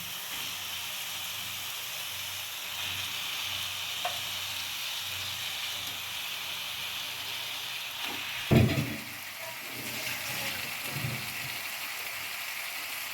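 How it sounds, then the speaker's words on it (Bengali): Marinated chicken frying in oily spice paste for chicken kosha, with a steady, close sizzling hiss throughout and a brief louder scrape of stirring partway through. "এবার আমি ওই ম্যারিনেট করা চিকেনগুলো যেগুলো আছে সেগুলো এর মধ্যে মিশিয়ে দেবো।"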